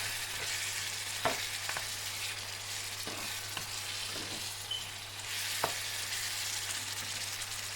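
Mutton pieces fry in a pan with a splash of malt vinegar, giving a steady close sizzle with occasional clinks and scrapes of stirring over a constant low hum.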